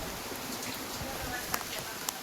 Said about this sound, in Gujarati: હાલો હવે આપણે વરસાદમાં નાવા જવાનું થાય.